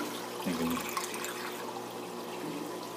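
A water pump in an aquaponic DWC system pushes water through an irrigation fitting used as a venturi, a steady low gurgling rush with a brief bubbling burst near the start.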